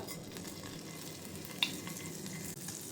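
Cumin seeds hit hot ghee in a pan, giving a steady, close frying hiss that holds for a few seconds with one brief sharp crackle partway through. No one talks.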